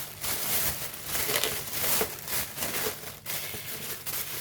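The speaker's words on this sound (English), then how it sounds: "So I will put it in the plastic bag again, just like that." Plastic bag crinkling and rustling continuously up close, with crackling bursts as it's handled and folded around shrimp paste.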